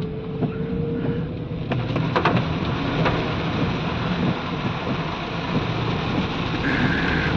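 Monsoon rain falling on a road in Pune, a steady dense hiss with a low traffic rumble beneath and brief high tonal squeaks and clanks, constant and fairly loud throughout.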